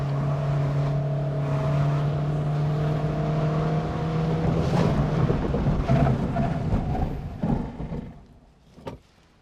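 A 2023 Honda Brio 1.2 RS CVT hatchback pushes hard through a slippery final corner, its engine droning loud and steady with a rising tone, then fading into tire and road noise with a couple of sharp knocks near the end.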